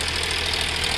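Powertrac 437 tractor engine running steadily at close range, a continuous loud mechanical drone with a low, even rumble and no pauses, heard alone without any voices.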